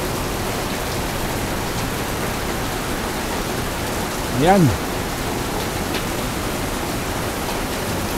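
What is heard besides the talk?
heavy rain pouring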